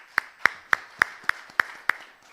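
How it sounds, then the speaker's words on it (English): Claps at the close of a panel discussion: seven sharp, evenly spaced hand claps, single and close, with quiet between them rather than a full crowd's applause. "we should give a round of applause to our panelists"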